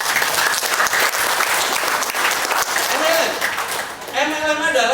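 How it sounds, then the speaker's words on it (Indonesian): An audience at a motivational MLM training event breaks into loud, sustained applause, a dense wash of clapping with a voice speaking over it near the end. "Mana tepuk tangan?"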